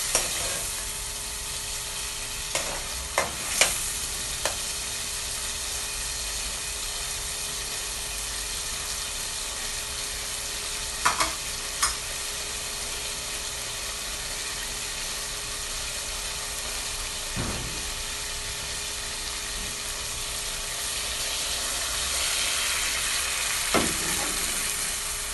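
Tomato frying in a pan for a fish sauce, a steady close sizzle and hiss throughout with a few brief clicks of stirring.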